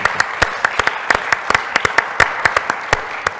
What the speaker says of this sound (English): we're gonna do an applause